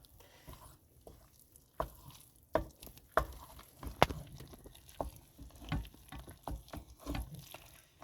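Salt cod being stirred and mashed together with potatoes in a bowl, a series of soft wet squishes and scrapes in an irregular rhythm, close and fairly quiet.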